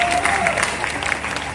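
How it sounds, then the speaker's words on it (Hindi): Audience clapping at an all-India Hindi poetry recital gathering in Guna, a dense continuous patter of hands with a voice briefly over it, short and steady. "एक बार पीछे तक की तालियां दे दीजिए"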